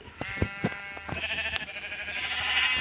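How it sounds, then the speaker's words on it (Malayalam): Several short, nasal sheep bleats repeat over a bright, synthetic backdrop, sounding like Minecraft game audio rather than a real field. "ആടുകൾ."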